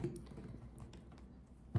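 A well-worn oracle card deck is shuffled with soft, rapid papery patter and light taps, quiet and close, ending in a slightly firmer knock.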